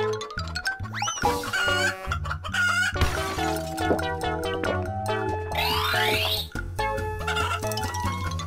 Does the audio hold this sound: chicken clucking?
yes